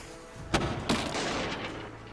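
A cannon shot in the board game Red Rogue Sea, heard as two sharp booming blasts about half a second apart, loud and close, with a lingering noisy tail and no talking.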